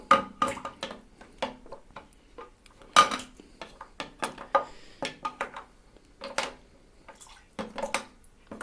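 A spatula clatters and scrapes against a container of water in a series of sharp, irregular knocks and clinks with small splashes, close and fairly quiet, with no talking.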